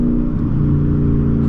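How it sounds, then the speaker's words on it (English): A 2022 Ford Mustang GT with its 5.0 V8 rumbles steadily from the exhaust while driving, a loud, continuous low drone heard from inside the cabin with no talk over it. "I love this exhaust."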